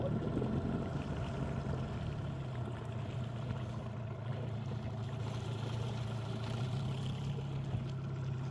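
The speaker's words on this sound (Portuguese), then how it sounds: "Olha o motor aí" A small boat motor drones steadily throughout on a creek, a low continuous rumble with water noise, close by and constant, no talking.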